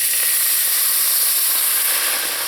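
Water hits toasted curry powder in a hot pan, producing a loud, bright, hissing sizzle of steam that holds steady and eases slightly at the end, close up with no speech.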